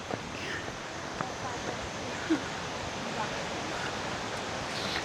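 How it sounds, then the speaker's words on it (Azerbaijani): Maya waterfall near Chiang Mai, Thailand, gives a steady, broad rush of falling water at moderate distance, with faint voices and a few brief knocks over it. "şəlalə bir buradadır"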